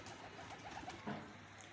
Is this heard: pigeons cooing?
yes